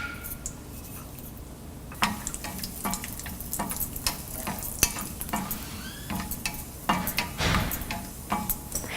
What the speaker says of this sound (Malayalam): 1 ടേബിൾ സ്പൂൺ നെയ്യൊഴിച്ച് ചൂടായി കഴിയുമ്പോൾ നമ്മൾ എടുത്തു വച്ചിരിക്കുന്ന കാഷ്യൂനട്ട്സ് ഇട്ട് മിക്സ് ചെയ്തതിന് ശേഷം